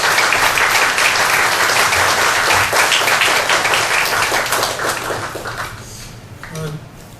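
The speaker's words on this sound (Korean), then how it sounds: "나오실 때 크게 박수를 환영해 주시기 바랍니다." Loud, dense applause from a church congregation welcoming a professor to the pulpit, a strong sustained clatter of many hands that thins and tapers off toward the end.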